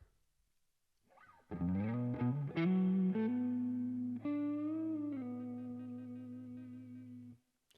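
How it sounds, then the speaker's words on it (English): Electric guitar played through a Boss Katana MK2 amp with spring reverb, a few picked notes and then a sustained chord ringing out and slowly decaying, clean and close with a reverb tail. "Spring reverb now."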